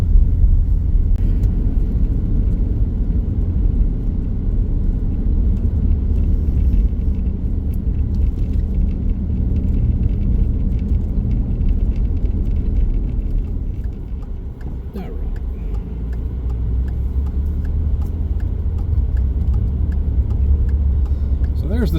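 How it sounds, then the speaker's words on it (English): A truck engine idling as it warms up at an Alaska cabin, a steady loud low rumble that carries on throughout with a slight dip midway. "Let the truck warm up for about 30 minutes,"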